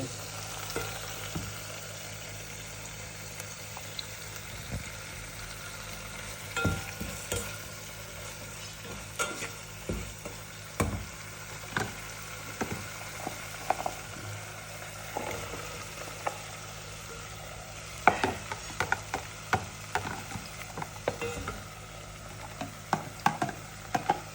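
Pasta ingredients sizzle softly in a frying pan while a utensil scrapes and taps against it now and then, giving a scattering of sharp clicks over a low, even hiss.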